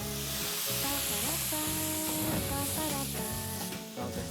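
A flambé fireball flares in a pan in a Quebec restaurant kitchen, giving a steady, close sizzling hiss that holds for several seconds, with music playing underneath.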